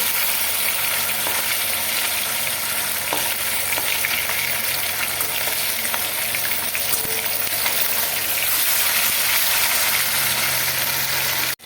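Large bhola fish frying in oil in a pan, a steady loud sizzle that continues without a break, with a few faint clinks of a utensil.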